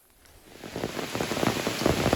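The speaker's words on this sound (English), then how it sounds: "And it's raining again." Rain falling in a cow field, swelling from near quiet into a steady, dense patter of drops hitting a surface close by.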